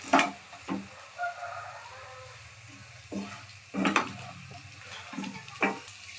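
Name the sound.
curry leaves sizzling in frying chicken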